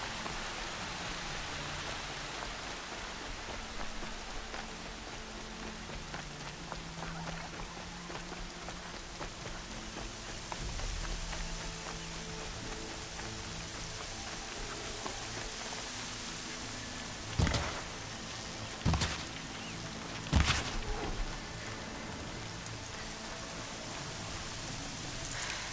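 Steady rain falls in Horizon Zero Dawn, a dense, even hiss of drops on surfaces throughout, with a few sharper, louder bursts near the end.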